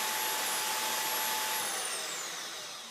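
A portable bandsaw motor runs close and loud with a steady broadband whir and a faint whine, then begins to wind down and fade over the last second or so.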